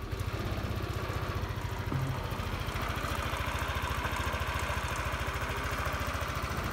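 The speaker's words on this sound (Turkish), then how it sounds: "Şöyle bir motorun sesini göstereyim." A 2021 Yamaha NMAX 125 scooter bored up to 180cc with a 62 mm kit idles steadily, its close, even low putter pulsing without break throughout.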